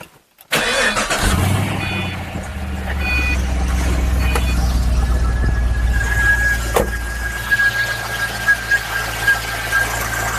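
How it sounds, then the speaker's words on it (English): A car engine cranks and catches right after a boost from an Auxito J503 portable jump starter, then settles into a steady close idle, with a faint high whine and small clicks over it. "so we'll go try to start the vehicle"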